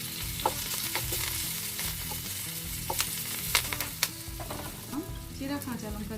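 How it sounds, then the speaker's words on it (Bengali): Cumin seeds, curry leaves and slit green chillies frying in oil give a steady close sizzle, broken by sharp spattering pops and the clatter of a spoon stirring the pan. "তারপর সামান্য জিরে ফোড়ন দিলাম, কারি পাতা দিলাম, কাঁচা লঙ্কা দিলাম,"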